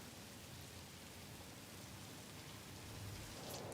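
Steady rain drumming on a roof inside a building in the game Satisfactory, a dense, even hiss that swells slightly louder toward the end, with no voices.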